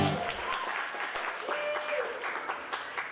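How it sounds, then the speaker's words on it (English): Audience applause at a small live music show at a geek-themed venue in Orlando, steady and fairly distant-sounding, with voices heard over the clapping. "Give yourselves a round of applause."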